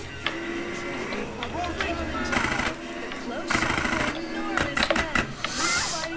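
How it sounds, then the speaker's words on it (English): Video game gunfire in GTA San Andreas, with rapid bursts of shots and clattering bangs scattered across the stretch, moderately quiet amid game engine and street noise, with a voice talking over it. "Now he decides to shoot him."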